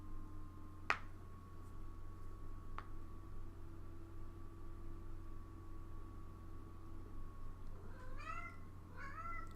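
A house cat gives two short, faint meows near the end over a steady electrical hum, with a single sharp click heard earlier in the quiet room.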